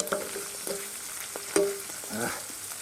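Shashlik-style meat and sausage sizzle and crackle in a hot pan inside a hut, with a few sharp clinks of a utensil stirring against the metal.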